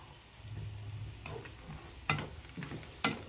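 Honey-coated almonds with sesame caramelize in a pan, with a quiet, low sizzle broken by a few sharp stirring scrapes near the end.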